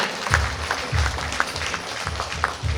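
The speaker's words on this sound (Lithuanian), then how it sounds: "Šilti aplodismentai tai gražiai porai, kur ir sukasi kamputyje." Audience applause for a couple dancing in a corner at a folk music event in Raseiniai, a steady moderate clapping that carries on throughout.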